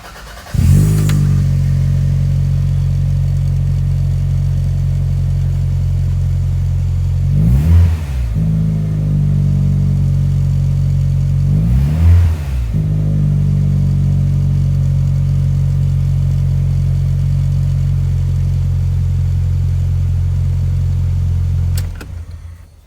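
A Toyota Celica GT4 ST185 with a faulty ignition coil idles loudly and steadily up close, broken by two quick throttle blips midway before the engine cuts off near the end.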